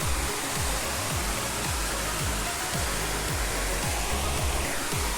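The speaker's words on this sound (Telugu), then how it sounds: "దిస్ ఈజ్ వాటర్ ఫాల్స్ అనమాట." A waterfall near Vijayawada roars in a dense, unbroken rush of falling water, loud and close, with faint low thumps running underneath.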